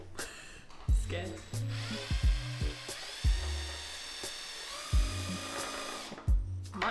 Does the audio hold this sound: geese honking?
no